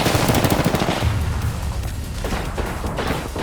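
Rapid bursts of gunfire in an Apex Legends ranked match crackle loud and close, with dense overlapping shots that ease into scattered fire over a few seconds.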